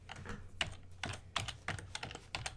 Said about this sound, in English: She's typing, by the way.